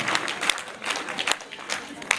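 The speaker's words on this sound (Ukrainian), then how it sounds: "проводжаємо звичайно шаленими оплесками" Enthusiastic applause at a Ukrainian festival event, a burst of scattered crowd clapping with sharp individual claps, heard alongside speech over a public address.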